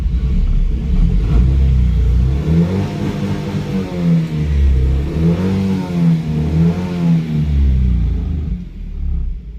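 Tata Nano engine running on E20 petrol, a loud, close rumbling idle that rises and falls through several revs, the firing throbbing unevenly with a low mid-pitched drone and no talk.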